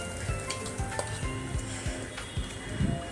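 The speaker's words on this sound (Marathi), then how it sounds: "आणि त्यामध्ये आपली रताळ्याचा किस परतून घ्यायचा." Grated sweet potato sautés in a pan with a soft, continuous sizzle, punctuated by several low, dull knocks of stirring against the pan, close and moderately quiet, with no voices.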